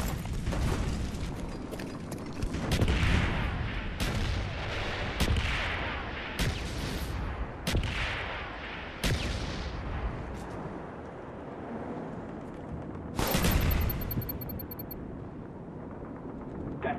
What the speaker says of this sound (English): Mortar team coordinates received. Firing for effect.